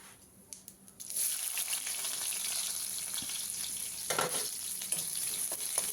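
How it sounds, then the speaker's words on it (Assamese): Onions poured into hot oil already crackling with cumin seeds and a piece of cinnamon: after a quiet second a loud, steady sizzle erupts and holds, with scattered pops and stirring scrapes. "জিৰাকেইটা ফুটিলে পিঁয়াজখিনি ঢালি দিওঁ"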